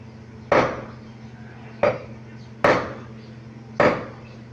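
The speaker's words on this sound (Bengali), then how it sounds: "দেখেন মাছটা কাটতেছি, মাছগুলো কাটতেছে।" Fish being cut into large pieces, four heavy, evenly spaced chops of a blade striking a board, close and loud, with a low steady hum underneath.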